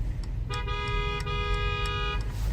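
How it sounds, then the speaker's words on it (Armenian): A car horn blares in one sustained honk of about two seconds, close by from behind in a traffic jam, over the low rumble of traffic. "Հիմա սիգնալ են տալի իմ հետևից"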